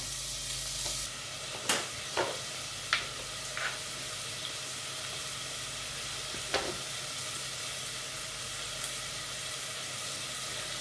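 Quiet, steady sizzle of food browning in a pan on low heat, with a few soft utensil clicks and taps; no one speaks.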